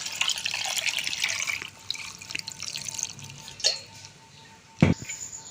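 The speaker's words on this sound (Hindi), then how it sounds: "अब हमने इसमें 3 गिलास पानी डाल लेना है।" Water splashes and pours into a pressure cooker with a bright rushing sound for a couple of seconds, then fades to drips and trickles with a clunk near the end.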